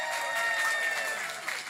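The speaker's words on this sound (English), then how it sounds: "Round of applause for our glamorous assistant" Audience applause and crowd noise for a glamorous assistant at the Indie Game Awards 2024, a steady wash of clapping that carries through the whole moment at moderate volume.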